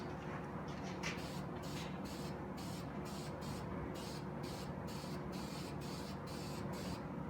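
A base coat of spray paint going onto a part during a drivetrain replacement on a 1981 El Camino. A steady, quiet hiss runs throughout with brief, regular pauses, and no talking.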